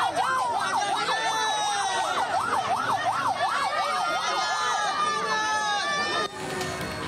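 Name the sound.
ambulance siren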